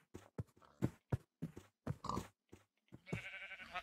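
A boar in a modded Minecraft world gives a string of short, soft grunts in an uneven rhythm, ending in a longer, rougher snort.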